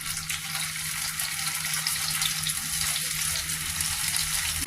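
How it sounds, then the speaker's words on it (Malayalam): Okra frying in coconut oil in a pan, a steady dense crackling hiss that holds evenly throughout, close and fairly loud with no talk over it. "വെണ്ടയ്ക്ക ഇങ്ങനെ മീൻ നമ്മളിങ്ങനെ വറുക്കണം അതുപോലെ തന്നെ"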